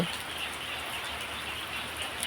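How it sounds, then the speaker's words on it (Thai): Afternoon rain falls in a steady, soft, even hiss, faint and unbroken, with no voices. "นี่บรรยากาศนะครับฝนตกเนาะ"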